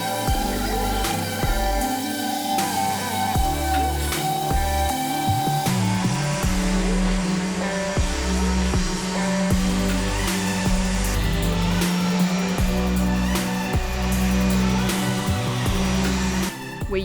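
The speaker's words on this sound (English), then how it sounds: "We used an orbital sander with an 80 grit first and then a 220 grit to prep it for painting" An orbital sander works over a sailboat surface with 80 then 220 grit paper, a steady loud whirring drone with shifting pitch that runs continuously and close throughout.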